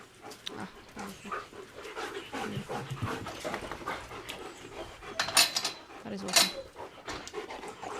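Dogs pant heavily and continuously at close range, a rough rhythmic breathing mixed with small whimpers and jingling, while a person speaks briefly over it.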